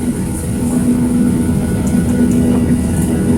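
Inside an airplane cabin in flight, a constant engine drone fills the space, steady and fairly loud, with a low hum running beneath a broad airy roar.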